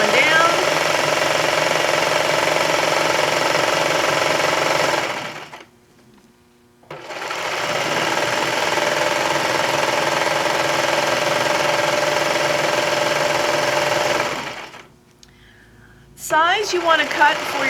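Serger trimming fabric along a curved blanket edge, two long bursts of rapid, loud mechanical stitching and cutting separated by a short pause, with a brief pause and faint handling noise near the end.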